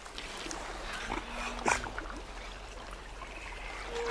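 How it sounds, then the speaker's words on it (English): Giant otters on a lake give whining contact calls to one another, faint high whimpers rising briefly over a soft watery background, with one clearer cry midway and no talking. "Their whining sounds are a contact call between members of the group."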